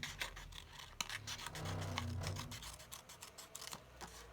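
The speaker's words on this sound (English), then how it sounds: "I'll use these scissors." Scissors cut through paper while making ephemera for journals, a quiet, close series of rasping snips and rustles.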